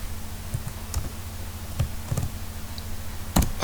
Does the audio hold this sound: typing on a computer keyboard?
yes